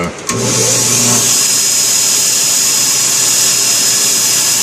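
A belt grinder running a 120-grit ceramic belt while cutting a false edge on a knife blade, starting up with a brief low hum and then holding a loud, steady high-pitched grinding whine throughout.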